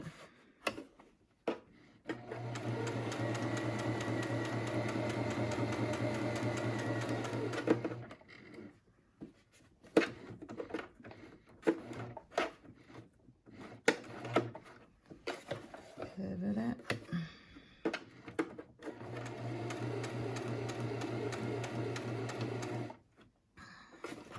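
A sewing machine stitches a fabric mask with a filter pocket in two long steady runs of motor hum and rapid needle chatter, separated by a quieter stretch of clicks, fabric handling and pivoting.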